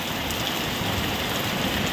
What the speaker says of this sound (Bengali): বৃষ্টি হচ্ছে, দেখো বৃষ্টি, এটা আমাদের উপর থেকে ছাদ থেকে পড়ছে